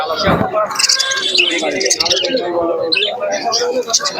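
Caged pigeons, lovebirds and other birds at a busy bird market in Santipur, a dense mix of close chirps, tweets and soft coos throughout, with people talking over them.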